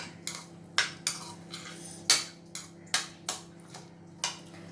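A spoon scrapes and taps against a bowl while uttappam batter is mixed with salt, ginger and green chilli, giving a series of sharp, quiet clinks in an irregular rhythm.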